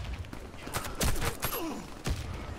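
Gunfire in the Warface shooter game arrives as a few sharp, fairly faint shots spaced irregularly over a quiet background of game noise.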